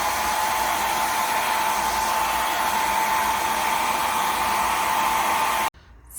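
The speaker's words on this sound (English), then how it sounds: "I just use my hair dryer real quick." A hair dryer blows hot air to dry paint on a wooden box, a loud, steady whooshing drone with a constant whine that cuts off abruptly near the end.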